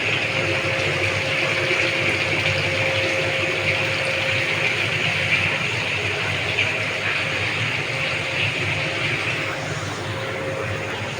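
Water being pumped and filtered at a town water tank in Raghunathganj, a continuous loud rushing and gurgling flow with a steady mechanical hum underneath, close and unbroken.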